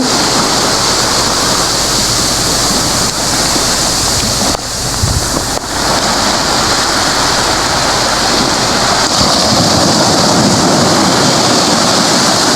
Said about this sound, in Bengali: সমুদ্রের গর্জন আপনারা কতটা বুঝতে পারছেন আমরা জানি না কিন্তু আমরা শুনতে পাচ্ছি পাহাড়ের উপর থেকে